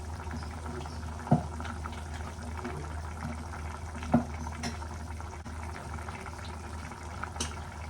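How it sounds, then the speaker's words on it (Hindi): Pakora batter is stirred with water in a bowl, giving a quiet, steady wet swishing and sloshing with a few soft clinks of the spoon along the way. "ये देखिए ऐसे घोलना है मुझे बैटर पकौड़ियों का।"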